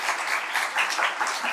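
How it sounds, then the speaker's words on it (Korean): A crowd applauds at an international school's opening chapel service, a dense, steady clapping that fills the whole short moment. "다시 한번 박수 쳐주세요."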